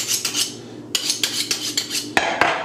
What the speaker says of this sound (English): I'll show you just how to quickly cut this onion up